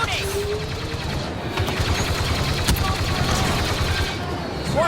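Continuous rapid gunfire crackles through a Star Wars Battlefront II battle, dense and fairly close, with voices and battle noise mixed in throughout.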